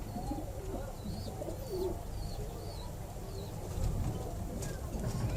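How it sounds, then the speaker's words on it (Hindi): Pigeons in a breeding cage, a phulsara and a golden female, coo softly in repeated low calls amid other faint bird chirps and background hum, with no talk over them. "ये फुलसरा कबूतर है और जोंसरी गोल्डन मादी है जी।"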